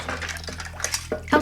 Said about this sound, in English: and gets started on the dishes.